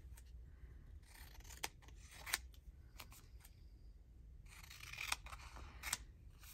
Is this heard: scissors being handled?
yes